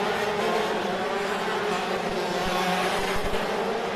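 A racing kart engine runs on track during a ROK Cup USA Winter Tour heat race, giving a steady, loud, continuous drone with no pauses or speech.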